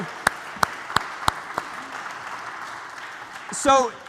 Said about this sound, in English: a round of applause then, sure